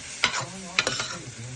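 Chopped parotta and two eggs being stirred on a hot pan for kothu parotta, two sharp metal spatula scrapes about half a second apart over a soft sizzle.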